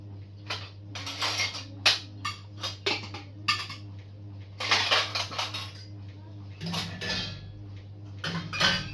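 Steel pots and plates being handled and stacked away in a home kitchen, irregular close clinks and clatters over a steady low hum.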